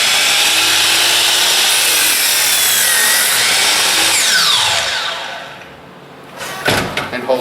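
A sliding compound miter saw cuts through wood with a loud, sustained whining roar that winds down after about five seconds, followed by a few clunks as the saw head is handled and released.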